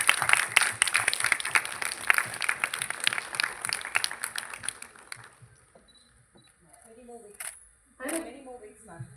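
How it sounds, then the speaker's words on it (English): Audience clapping at the inauguration of the Beyond the Barriers 2024 event, dense for about five seconds, then thinning to scattered claps with camera shutter clicks and faint voices in the background. "A big round of applause as much as you give to a celebrity or a politician."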